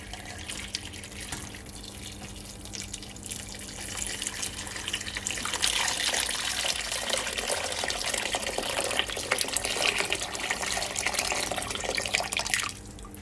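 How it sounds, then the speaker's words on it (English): Water from a kettle pours steadily into a cooking pot that already holds ginger, a continuous soft splashing and trickling that swells midway and runs on for several seconds, close and fairly quiet with no talking. "So now I'm gonna add some water"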